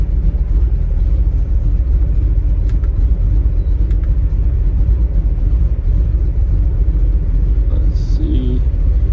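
A 1931 Chevrolet five-window coupe hot rod with a small-block engine runs at a steady idle, a loud, close, continuous low rumble with no break.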